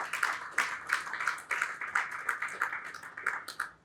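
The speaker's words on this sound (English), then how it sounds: "can you give yourselves a round of applause?" An audience at a Nigerian corporate awards event gives itself a round of applause, a steady patter of many hands clapping throughout at moderate level, with no speech over it.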